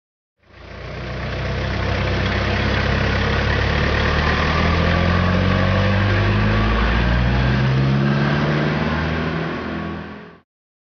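Pickup truck engine running, a loud low rumble that swells in with shifting revs, idling and revving with rising and falling pitch for about ten seconds before fading out.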